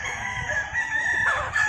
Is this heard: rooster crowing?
yes